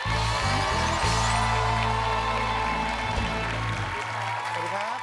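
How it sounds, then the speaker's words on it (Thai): A studio audience applauds to welcome the judges on a Thai TV singing contest, the clapping running under loud, sustained show music that carries through the whole passage. "ขอเสียงปรบมือต้อนรับนะครับ"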